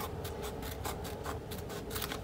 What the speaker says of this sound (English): you're going to take your little pair of scissors, and you're just going to start cutting along the outline